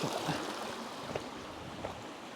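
A mountain torrent flowing strongly over rocks, heard as a dense, constant rushing of water with a few small splashes standing out.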